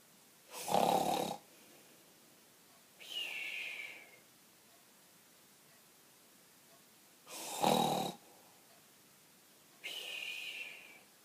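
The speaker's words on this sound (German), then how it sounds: "Schnarch." A person snores nearby in two full cycles, each a rough, rattling inhale followed by a higher, wheezy exhale. The cycles come in a slow, even rhythm, separated by quiet pauses.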